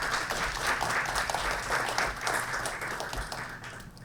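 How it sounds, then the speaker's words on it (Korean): A conference audience at a public diplomacy event applauds to welcome a university presenter, with close, distinct clapping that stays steady and then thins slightly toward the end. "모두 큰 박수로 맞이해 주시면 고맙겠습니다."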